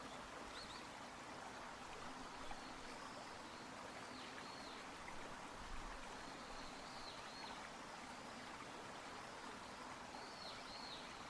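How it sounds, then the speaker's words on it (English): A river stream murmurs steadily in the open countryside, a soft continuous wash of flowing water, with faint bird chirps now and then above it. "The river's soothing murmur blends with the occasional chirp of a bird perched nearby"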